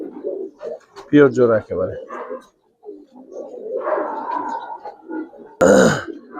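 A pair of silver giribaz pigeons give a few throaty, burbling coos in short bursts between stretches of close-up talk.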